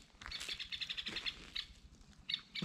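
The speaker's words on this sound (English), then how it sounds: "This bird is going nuts." A bird calls rapidly and excitedly in a burnt forest, its bright repeated chirps and tweets close by in quick bursts, with brief pauses between and a few rustling footsteps or movements underneath.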